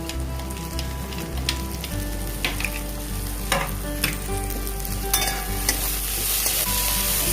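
Green beans frying over a low flame in a pan, with a steady close sizzle broken by scraping clicks as they are stirred, and no voices.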